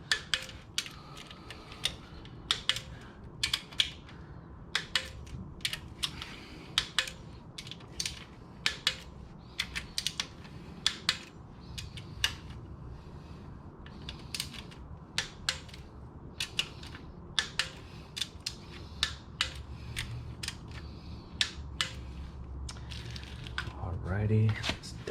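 A torque wrench tightens the clutch cover bolts on a Triumph Tiger / Sprint ST motorcycle to 7 newton meters, giving sharp, close clicks in a steady series with faint sounds in the background.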